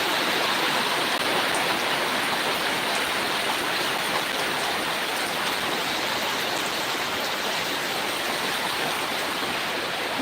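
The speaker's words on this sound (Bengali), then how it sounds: "প্রচন্ড বৃষ্টি হচ্ছে আমাদের বাড়ি থেকে, এই দেখো বৃষ্টি হচ্ছে, এই যে বৃষ্টি হচ্ছে।" Heavy rain pours down outside a house in a dense, unbroken roar of falling water, loud and constant throughout with no voices.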